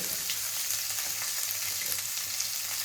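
Garlic, ginger and peanuts fry in oil in a pan for rava upma, giving a close, steady, even sizzle that continues without a break.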